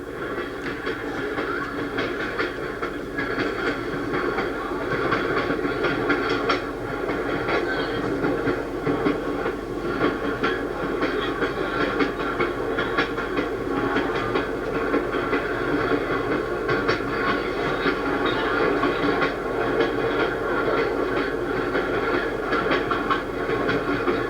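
A Pennsylvania Railroad Atlantic Division train rolling along the rails between the Delaware River and the Jersey Shore, a steady rumbling ride with faint rhythmic wheel clicks continuing evenly throughout, no voices.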